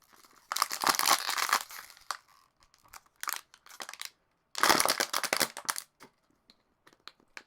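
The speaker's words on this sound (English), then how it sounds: "crinkling bottle ASMR" An empty plastic bottle is crushed and crinkled in two long bursts of dense crackling, with a few scattered crinkles between and after, close and loud.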